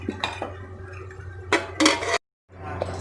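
A pressure cooker holding pumpkin is set down on a gas stove: a few sharp metallic clanks and scrapes of pot against the burner, close and fairly loud, then a brief silence.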